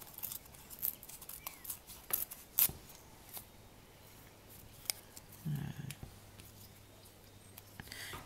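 Scissors snip through a small piece of paper during a hot-glue craft of making mini witchcraft bottles, giving a few quiet, close cuts with a soft crunch near the middle, heard alone with no talking.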